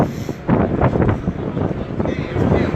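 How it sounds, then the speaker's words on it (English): Strong wind buffets the microphone with a continuous roaring rush that swells and gusts throughout. "It is windy as hell."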